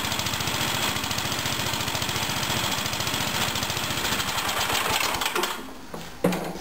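A cold-started Toro small engine with a loose spark plug runs at a fast, steady putter, loud and close, and then sputters out near the end with a brief final burst.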